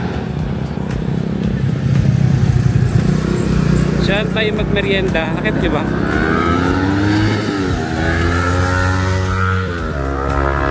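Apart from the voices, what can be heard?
motorcycle engine noise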